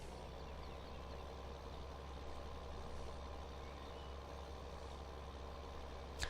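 A Massey tractor engine in a farming video game drones steadily as heard from inside the cab, a muffled, even low rumble with no variation and a small knock at the very end.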